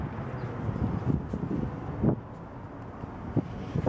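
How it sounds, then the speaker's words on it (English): Wind gusting on an open rooftop of the Nebraska State Capitol, buffeting the microphone in rough, uneven bursts with a few sharper gusts; no talking. "A little windy."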